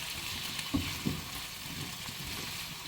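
Potatoes with spinach frying in a pan, a steady close sizzle with a couple of soft stirring knocks and no talking.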